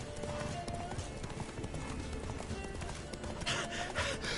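Horse hooves clip-clop steadily in The Witcher 3, a quiet continuous trot under game ambience and a voice.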